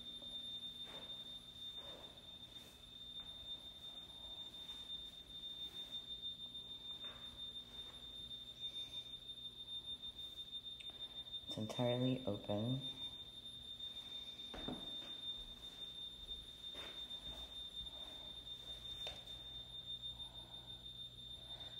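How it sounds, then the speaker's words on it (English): An inactive house alarm in a home being shown for sale keeps up a steady high electronic tone throughout, with a few brief breaks, running under a voice as she talks. "They have an alarm that's not active, but it's making all kinds of noise"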